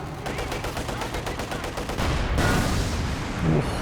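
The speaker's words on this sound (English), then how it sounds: "Ooh, big explosion." Rapid machine-gun bursts and rifle fire in the WWII strategy game Company of Heroes 2, followed by a loud heavy explosion boom, dense and continuous battle noise with a faint voice underneath.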